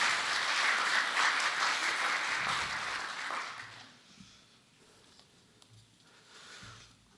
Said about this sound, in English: I'd invite you to give each of them a round of applause